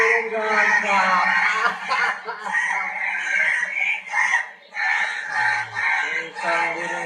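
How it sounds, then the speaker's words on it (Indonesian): A crow-call ringtone plays loud and close, with harsh, drawn-out calls repeating almost without a break for several seconds. A voice seems to speak over parts of it. "Nah, ringtone burung gagak."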